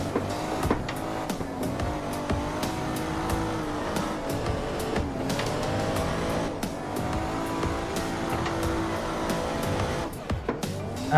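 A Toyota JZX100 Mark II drifting in the Assetto Corsa sim, its engine droning steadily while the tires squeal almost without pause, loud and continuous throughout.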